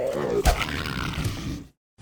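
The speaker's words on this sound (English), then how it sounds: "Yes, the clawfish roars in the movie." A sea-monster roar from a clawfish in Star Wars: The Phantom Menace, loud and growling, lasting about a second and a half before cutting to brief silence.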